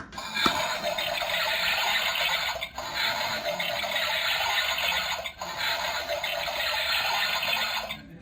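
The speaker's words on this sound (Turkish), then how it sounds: "Sifon çok güzel değil mi?" A toy toilet in a baby-doll play set flushes with a steady rushing, gurgling water sound that runs on for several seconds, close and fairly loud with brief dips, no talking over it.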